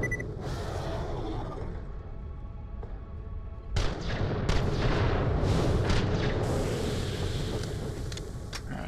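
Gunfire in the video game Borderlands The Pre-Sequel: a sustained rumble of weapon fire, then a sharp burst of louder shots and booming blasts in rapid succession, dense and close, with no voice over it.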